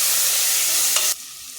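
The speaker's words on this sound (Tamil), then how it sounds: "தக்காளி நல்லா வதங்கட்டும்" A pan of tomatoes fries and sizzles steadily while being stirred, a loud hiss that cuts off abruptly near the end, leaving only faint low noise.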